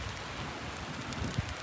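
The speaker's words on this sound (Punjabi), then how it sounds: "ਬਾਰਿਸ਼ ਵੀ ਸ਼ੁਰੂ ਹੋ ਗਈ ਹੈ," Rain falling steadily outside a hotel in a scenic area, a soft, even hiss with a couple of slightly louder drops near the end and no voices.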